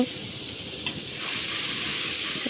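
Mixed spices sizzle in hot oil in a pan for a Bengali bottle gourd and katla fish head dish, giving a steady, moderately loud hiss that swells slightly partway through.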